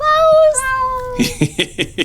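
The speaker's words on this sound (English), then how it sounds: "I just want to shout out my cat, Klaus." A house cat gives one long, clear, falling meow up close, and a voice follows right after.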